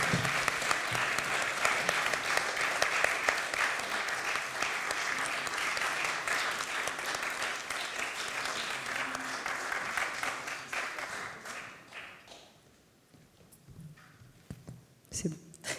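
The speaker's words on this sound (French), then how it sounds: "Je crois qu'on peut encore les applaudir pour cette..." Sustained audience applause for a band after a concert, a dense clapping crowd holding steady for about ten seconds before thinning out, with a few scattered claps and a voice near the end.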